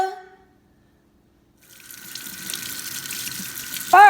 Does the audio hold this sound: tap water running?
yes